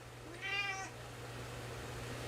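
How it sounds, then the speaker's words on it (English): A cat gives one short, fairly faint meow indoors that rises and falls, then fades into a steady low hum. "cat's got the zoomies"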